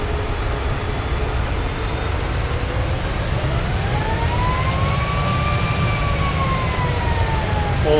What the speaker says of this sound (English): All 4 engines starting and operational.